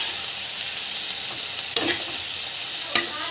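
Tomato and grated coconut sautéing in a pan, a steady high sizzle with a couple of sharp utensil scrapes as the mixture is stirred.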